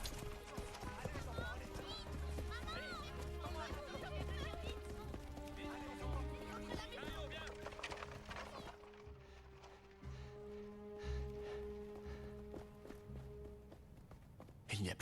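Horse hooves clip-clop in a steady walking rhythm with a neigh, as people talk urgently over the scene during a smallpox alarm; later the hooves continue more sparsely under the voices.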